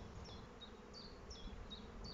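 Honeybees hum around an open hive during frame handling, a faint, continuous buzzing drone with a few brief higher tones repeating over it.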